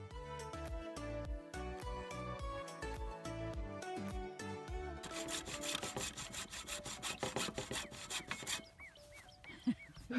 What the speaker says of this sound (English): hacksaw is not really for wood, but it's nice and thin and it fits in there